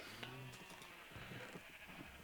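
Several sheep bleat in a Minecraft-style game, short wavering calls repeating over a steady bed of background game noise, moderately near and fairly quiet.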